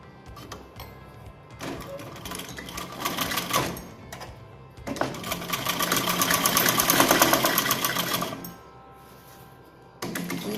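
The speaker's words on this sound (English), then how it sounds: "so we will stitch from here keeping this cloth in the upward direction" A sewing machine stitches a frill onto a petticoat, running in fast whirring bursts of varying length with short stops between them, fairly quiet and close, with no talking.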